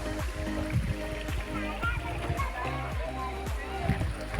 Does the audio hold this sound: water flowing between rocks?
yes